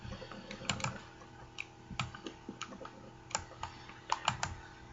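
Rapid, close clicking of computer keyboard keys while shortcuts are entered in Blender 2.8 for 3D modeling, uneven bursts of taps and single keystrokes over a quiet background.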